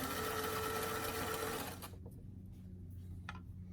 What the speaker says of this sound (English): I'm going to just use a very tiny zigzag stitch just to add some additional stretch to the flexibility of the garment.